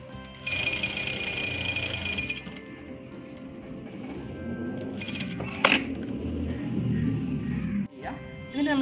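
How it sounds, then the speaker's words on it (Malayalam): A sewing machine stitches fabric on cigarette pants, its motor whirring in a steady run, then stopping, followed by handling clicks and further muffled machine noise with some voice in the background. "ഇവിടെ നമ്മളൊന്ന് പതിച്ച് സ്റ്റിച്ച് ചെയ്യുക."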